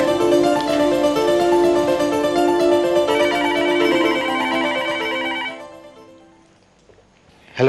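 A telephone ringing loudly and close with a repeating electronic ring tone for about five seconds, then it stops and a brief quieter stretch follows.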